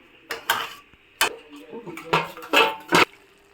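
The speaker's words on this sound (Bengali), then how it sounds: "কষে নেবো মাংসটা" Chicken meat being stirred and sautéed in a pan, with a metal spatula clattering against the pan in several sharp, uneven scrapes and knocks. The scraping sounds close and fairly loud, and no one speaks.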